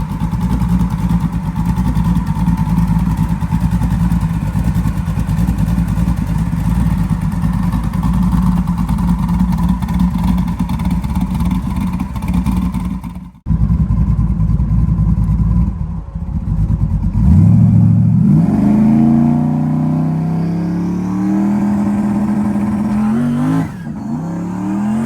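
Twin-turbo Coyote V8 in a race car, a loud rough idle rumbling for a long stretch, a brief cutoff, then firing again and revving with rising, wailing sweeps, close and with no talking.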